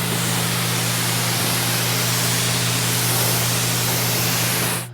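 Bead Maker detailing spray hisses onto the paint of an E92 M3, a loud, steady, close spray held for about five seconds over a low constant hum, with no talking.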